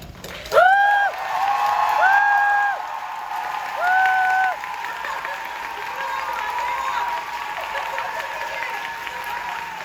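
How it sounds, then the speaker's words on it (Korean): Applause and cheering from a musical theatre audience at a closing-performance curtain call, a dense sustained wash of clapping that swells loudly early on and carries on steadily, with tonal cue sounds over it. "마지막 퇴장하실 때도 여러분 큰 박수 부탁드릴게요"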